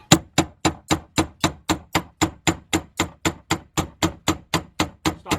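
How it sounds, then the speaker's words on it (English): A hammer strikes a pry bar over and over to turn the fuel pump locking ring on a BMW 328i, about four sharp metallic hits per second, steady, close and loud, with no voices. "you're going to take your hammer and you're going to hit."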